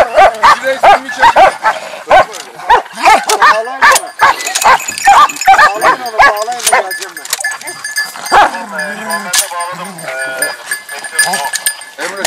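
Several dogs bark in sharp repeated bursts with yelps and whimpers mixed in, close and loud throughout, amid other farm animals and a faint cowbell, with people talking nearby during an outdoor hunting and nature outing in Kırklareli.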